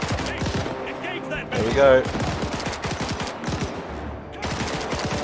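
Sustained World War II gunfire in the ArmA 3 Battle of Berlin map, rapid rhythmic machine-gun bursts and scattered shots close and loud throughout, with someone briefly speaking over it.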